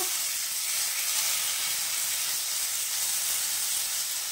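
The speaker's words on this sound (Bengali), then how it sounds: "এবারে দিয়ে দেবো একটু সাদা তিল এর মধ্যে, দিয়ে আবার একটু কষাবো" Spiced eggplant masala with white sesame seeds sautés in a pan, giving a continuous loud, close hissing sizzle of steam and frying with no pauses.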